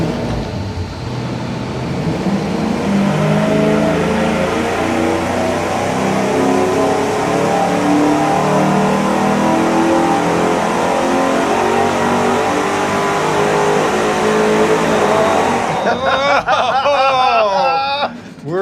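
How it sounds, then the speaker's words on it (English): An engine on a dyno running a single exhaust through a turbo muffler with a 90-degree merge pulls hard, a loud rising roar held for about fifteen seconds before cutting back to a burbling idle. "We're ready to fire up and run it with the single exhaust with a turbo muffler"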